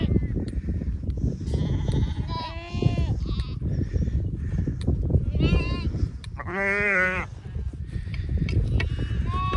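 Sheep bleat repeatedly at close range on a grassy island pasture, several wavering calls overlapping amid people talking and rustling movement.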